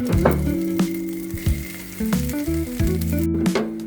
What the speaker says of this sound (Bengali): এখন দিচ্ছি সিদ্ধ আলু